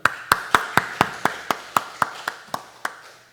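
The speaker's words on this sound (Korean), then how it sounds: "박수." A congregation's applause in a church, heard as about a dozen evenly spaced, sharp claps, fairly close and with no talk.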